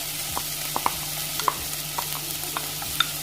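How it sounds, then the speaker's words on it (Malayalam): Chopped onion with a little salt sautéing in a pan of oil for a Malabar snack, a soft steady sizzle broken by light scraping stirs at irregular intervals, close and moderate in level with no talk. "സവാള ചേർത്ത് ഒന്നും കൂടി ഒന്ന് വഴറ്റിയെടുക്കണം."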